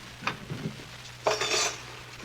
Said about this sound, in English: Now, let's put all the silverware away.